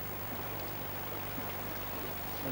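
An Irish salmon river in summer flowing steadily, a continuous broad rushing wash of water with no pauses, moderately loud and close.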